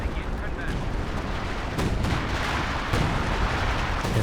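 Assault artillery in Company of Heroes 2 rumbles as a continuous wash of battle noise, with repeated dull booms and bursts layered through a loud, dense soundscape.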